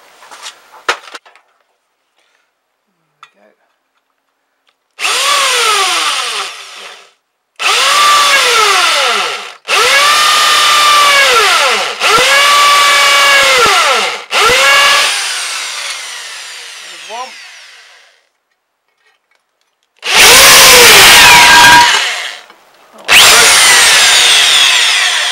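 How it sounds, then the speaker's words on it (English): A power drill bores through hole-punched wooden footboards to enlarge bolt holes, in several loud, close bursts of whining, grinding drilling separated by pauses, the motor pitch dipping under load and recovering, with a few small knocks between runs. "So what I'm going to do now is now drill them through."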